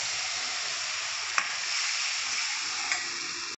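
A spoon stirs sambar powder into tomato kulambu made with ground coconut and tomato in a pan, giving a soft continuous scraping swish with two light clicks against the pan and no talking.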